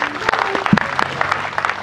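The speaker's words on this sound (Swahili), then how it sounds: "Wapi makofi ya Mama Eria." Applause for Mama Eria at a church area office dedication service, a short burst of clapping from the gathered guests with a voice speaking over it.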